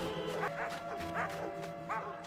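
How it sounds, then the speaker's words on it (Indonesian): Tracking dogs bark in the distance, a few faint, spaced yelps over a steady hum with a tonal drone that may be a siren. "Sirine dan gonggongan anjing pelacak terdengar di kejauhan."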